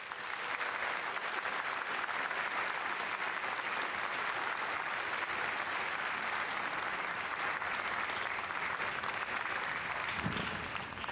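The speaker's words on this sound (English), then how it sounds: "please join us in giving these fine soldiers a round of applause" A large audience applauds at an infantry graduation ceremony for new soldiers at Fort Benning, a dense, continuous roar of clapping heard from within the crowd that holds steady for the whole stretch.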